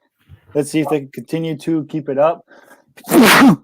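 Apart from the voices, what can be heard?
sneeze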